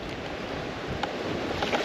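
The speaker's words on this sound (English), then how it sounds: "Big rollers out there. Look how choppy this is." Choppy lake water with big rolling waves slaps and washes steadily, with gusty wind buffeting the microphone on a bass fishing boat; no talking.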